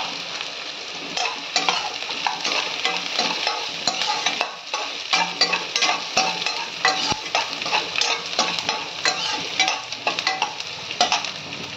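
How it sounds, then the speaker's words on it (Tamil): Coconut fries in a pan for Pallipalayam chicken, a close sizzle punctuated by a rapid series of spatula scrapes and stirs, loud and without talk. "இந்த ஸ்டேஜில் தேங்காயும் போட்டு கொஞ்சம் ஃப்ரை பண்ணிக்கிங்க"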